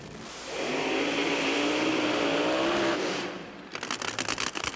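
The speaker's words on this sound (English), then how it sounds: "Coming to life, Shirley Muldowney's engine" A dragster engine fires up loud and close at the 1982 NHRA Northstar Nationals drag race in Brainerd. It roars to a sustained, heavy drone, then settles into rapid, choppy revving blips.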